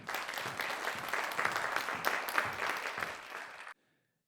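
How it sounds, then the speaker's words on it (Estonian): An audience at a regional education awards ceremony in Raplamaa, Estonia, gives a steady round of applause, moderately quiet and even, lasting under four seconds before cutting off abruptly into silence. "Aplaus selle eest."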